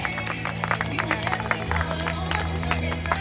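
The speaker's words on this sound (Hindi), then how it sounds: "एक बार जोरदार तालियां बजनी चाहिए" A cricket crowd applauds and cheers after a catch ends Tapan Jain's 145-run innings in a semi-final, with a scattered clatter of clapping and babble over a steady low hum.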